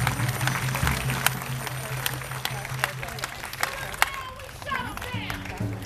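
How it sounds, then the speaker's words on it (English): A crowd at a protest near a federal building claps and cheers in scattered bursts, with distinct sharp claps over a murmuring background and some talking and other voices mixed in. "so give yourselves a round of applause."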